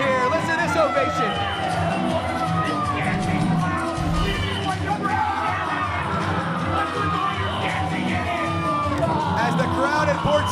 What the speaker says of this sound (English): Listen to this ovation.